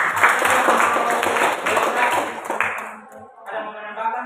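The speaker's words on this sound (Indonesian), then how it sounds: "kita berikan aplaus" Applause closing a student geography lesson on disasters in an Indonesian classroom: brief rhythmic clapping mixed with voices and a tonal ring, fading out after about three seconds.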